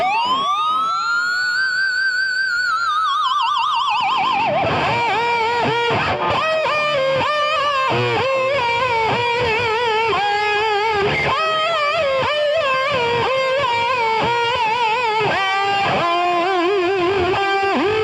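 An electric guitar sounds a screaming harmonic at the fifteenth note, bent and warbled with the whammy bar: high sliding pitches dive and wobble, then settle into a loud, distorted, sustained wail that keeps fluttering throughout.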